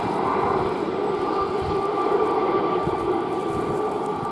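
Navy aircraft flying in formation over the Shuttleworth airshow, led by a Gazelle helicopter, a steady loud engine roar and drone that holds evenly throughout with no talk.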